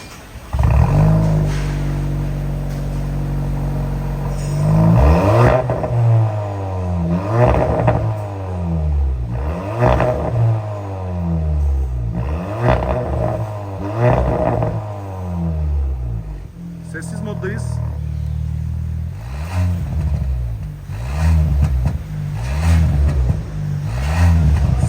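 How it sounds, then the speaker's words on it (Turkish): The modified exhaust on a Cupra Formentor 1.5 TSI revs repeatedly and loudly up and down, with sharp crackling pops on the overrun. The revs are heard up close outdoors, and speech comes in at times. "arabada natürel patlatmalar. Gördüğünüz gibi popcorn gibi."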